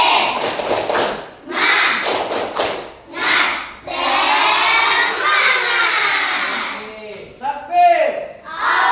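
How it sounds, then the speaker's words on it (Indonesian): A classroom does the 'tepuk semangat' ice-breaker, rhythmic group clapping in patterned bursts mixed with children's chanting and shouting voices, with short pauses between phrases. "Tepuk semangat."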